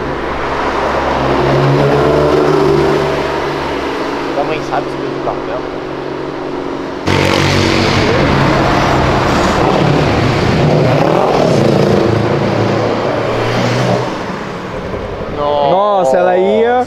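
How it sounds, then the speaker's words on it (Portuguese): A Porsche on an urban avenue passes nearby with a loud engine roar, rising then dropping as it shifts down, over strong road and wind noise, while people talk throughout. "A Porsche ia dar um up na marcha e deu um down."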